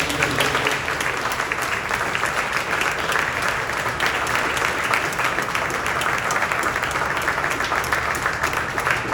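Sustained applause from a large crowd at a town hall, dense steady clapping filling the whole stretch at an even, loud level.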